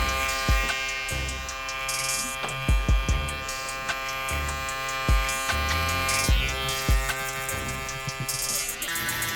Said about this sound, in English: I'm going to follow this up with the shaver.